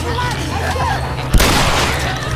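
A single sharp gunshot cracks out partway through gameplay of The Last of Us Remastered, loud and close, against a steady background hum with a voice talking around it.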